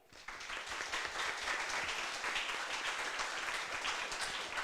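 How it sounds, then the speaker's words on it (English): Audience applause for a moderator and panel of experts at an AI and medical industry talk, a steady dense clapping that swells in after a brief quiet start and holds evenly throughout. "let's give them a round of applause"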